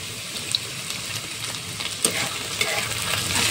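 Onion and green chilli fry in a pan with a steady hiss and crackle, broken by a few sharp scrapes and clinks of stirring, close and fairly loud throughout.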